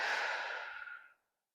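A single long, soft exhaling breath during a yoga session, close and gentle, fading out to silence after about a second.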